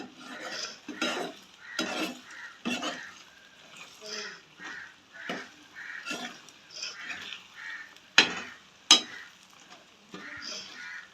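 Egg frying and being stirred in a pan with vegetables for a noodle dish, with repeated scraping strokes of a utensil against the pan and occasional louder clanks, close by.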